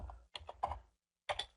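Bursts of keyboard typing in short clusters of clicks, close and clear, with a brief pause before a final flurry of keystrokes.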